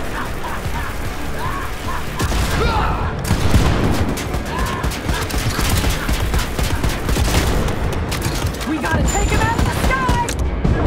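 Dense, continuous gunfire from Wolfenstein: Youngblood: rapid overlapping shots and booms fill the whole stretch at steady high volume, with faint voices mixed underneath.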